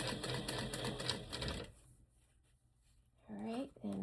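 Sewing machine top stitching and back stitching a skirt seam on a six-panel skirt, a busy rapid mechanical chatter for about a second and a half, then near quiet, with brief speech near the end.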